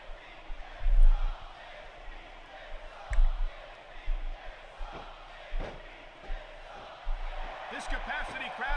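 An arena crowd roars steadily in the wrestling video game WWE SmackDown vs Raw 2006, with the noise swelling in waves and punctuated by heavy low thuds and faint voices.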